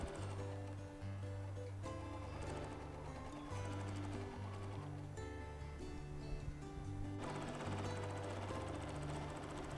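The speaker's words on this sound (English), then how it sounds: "So I'm pressing the foot pedal now, and you'll see the needle is moving" A sewing machine runs steadily in close, rapid mechanical stitching during free motion quilting, its rhythmic chatter pausing briefly a few times between bursts.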